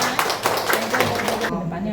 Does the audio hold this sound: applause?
yes